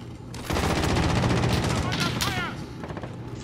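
Gunfire in the Call of Duty: Modern Warfare game: a dense burst of rapid shots and booms, loud and close, with voices talking over it.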